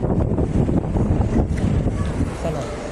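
Gusty wind buffets the microphone outdoors at Clark airport in Pampanga, low rumbling blasts that rise and fall unevenly, close and fairly loud, with no clear speech over it.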